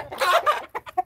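Backyard egg-laying chickens clucking nearby, a short burst of soft clucks followed by a few separate sharp calls, clear and alone.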